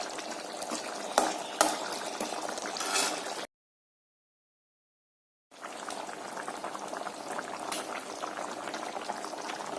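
A pot of curry with ground spice paste and water bubbles and gurgles at a steady boil, close up. The sound stops for a couple of seconds of silence, then continues.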